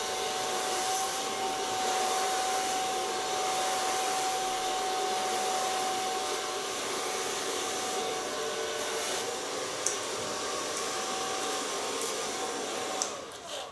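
A hair dryer blowing long hair, a loud, steady rushing whine that runs unbroken throughout, with a faint tonal hum and a couple of small clicks near the end.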